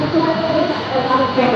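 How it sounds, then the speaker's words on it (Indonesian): A KA Pandanwangi passenger train pulls into Kalisetail station in Genteng, Banyuwangi, its steady rolling rumble and rail noise filling the platform at close range, with people talking over it. "Dan akhirnya kereta api Pandanwangi yang akan kita tumpangi pada kesempatan kali ini sudah tiba di stasiun Kali Setail"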